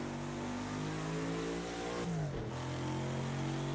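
A Lotus 40 race car in a racing video game holds a loud, steady high-revving engine note; the pitch dips sharply for a moment, as on a gear change, then settles back into a strong drone.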